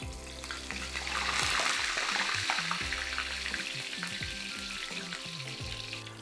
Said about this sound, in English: we can slowly slide the fish in the oil